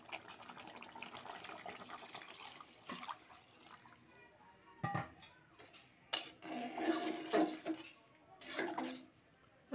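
Water being poured into a pot of meat curry during home cooking, a soft running splash that comes in irregular bursts with quiet gaps between, fairly faint and close.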